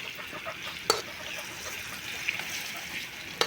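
Bananas for banana cue cooking in a pan, a steady soft sizzle and crackle of frying with a few sharp pops and clicks, no talking.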